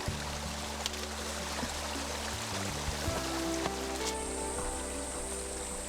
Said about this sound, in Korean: 물소리, 바람소리를 들으며